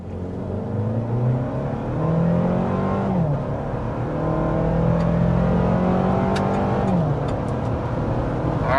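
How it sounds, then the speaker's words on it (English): A 2024 Toyota Land Cruiser with the i-Force Max hybrid system pulls hard from a standstill toward 60 mph, its engine note rising steadily with gear-shift dips, loud and close throughout. "there's an acceleration up to 60 from a standstill, and yeah, this is really quick with the iForce Max hybrid system"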